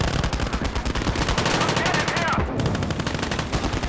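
A DShK heavy machine gun fires in a World War II video game battle against German half-tracks, Panzer IVs and StuGs, with rapid continuous bursts of loud gunfire, dense and steady throughout, briefly dipping mid-burst.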